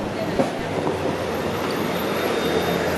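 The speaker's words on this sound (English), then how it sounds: "there's the Spadina streetcar" The Spadina streetcar rumbles steadily past on a downtown Toronto street near Queen Street West, a continuous low rolling drone with faint rail noise heard from the sidewalk amid city ambience.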